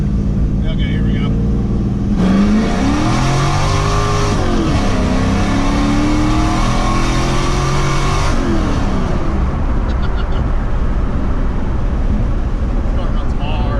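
A supercharged LT1 car accelerates hard in second gear from about 2,000 RPM, the engine roaring and rising steeply in pitch through a gear change, loud and close inside the cabin before settling into road noise, with a person talking throughout.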